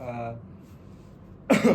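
A single short cough bursts out near the end of a brief pause, close and loud, right after a man's speech trails off.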